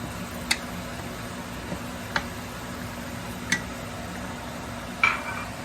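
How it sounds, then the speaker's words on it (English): Ground crayfish is stirred into a pot of Efo Riro, heard as a few sparse, bright clinks of a spoon against the pot spaced seconds apart in a quiet kitchen, with no talking. "So now I'm going to be adding the crayfish. And I'm going to mix it in."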